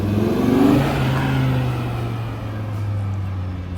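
A 2025 Audi RS3 Carbon Edition facelift engine revs up loudly and close, then settles into a steady lower rumble, with no talking over it.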